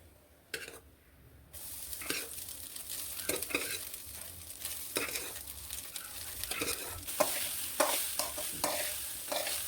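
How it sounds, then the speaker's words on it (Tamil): Ground curry leaf powder being stirred into cooked rice in a pan: close, repeated scraping and turning strokes with a light sizzle underneath, no talking. "நம்ம அரைச்சி வச்ச கருவேப்பிலை பொடியை நல்லா கிண்டிக்கிட்டு நம்ம வடித்து வச்ச சாதத்தை இதில் சேர்த்துக்கலாம்"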